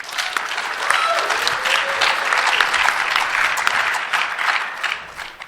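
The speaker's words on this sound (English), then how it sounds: "So let's give a round of applause for Andrew." A crowd applauds steadily, a dense wash of clapping that holds throughout and tapers off slightly at the end.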